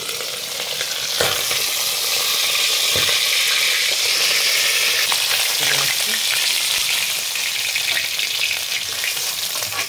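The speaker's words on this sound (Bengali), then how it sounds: "এবারে মাছগুলো ভাজবো আমি" Tangra fish frying in turmeric-tinted oil give a loud, steady sizzle throughout, broken by a few sharp spatters and clinks of a utensil against the pan.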